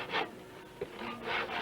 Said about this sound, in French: Toi, tu scies une planche.